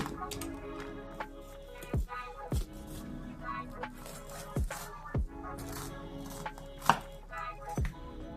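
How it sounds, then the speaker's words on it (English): Knife chopping peppers and onions on a cutting board, with sharp, separate thuds landing irregularly about a second apart over a quiet room hum, close up. "that's another reason I'm cutting everything up"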